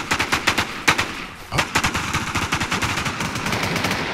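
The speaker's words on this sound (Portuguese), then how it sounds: "olha o tanto de cara que tem atirando" Dense gunfire from many players in the online shooter Doom MMO, rapid overlapping bursts crackling steadily throughout with occasional louder nearby shots.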